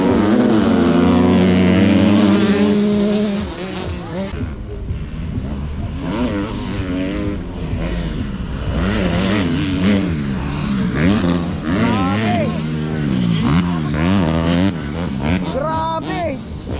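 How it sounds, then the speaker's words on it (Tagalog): 85cc motocross motorcycles race on a dirt track, their high-pitched two-stroke engines revving up and down again and again, loud and near, with several bikes overlapping as they pass. "Ito naman 85cc. Tingnan nyo kung gaano kalupit yung mga takbuhan ng mga motocross."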